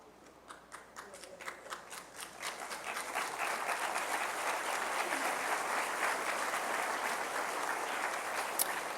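Audience at a Christian sermon breaking into sustained applause, starting with scattered claps that swell into a dense, steady round of clapping across the hall.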